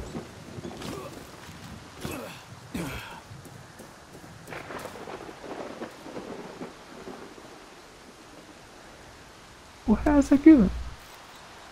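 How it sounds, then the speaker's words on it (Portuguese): Rain falling during a thunderstorm in Far Cry 6 makes a soft, steady wash beneath someone talking, and a loud, close thunder crack rolls through near the end. "Chovendo."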